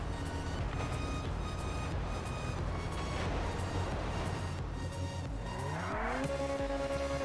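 A Ferrari-styled Carbonizer sports car driving in GTA V, a steady engine drone with tire squeal and a rising rev toward the end, heard alone without talk.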